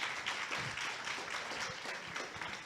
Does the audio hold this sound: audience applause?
yes